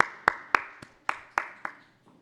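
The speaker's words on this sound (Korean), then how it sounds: "하나님께 영광의 박수 드리겠습니다." A few sharp, evenly spaced claps from a church service, about seven distinct hand claps ringing briefly in a quiet room, each decaying quickly.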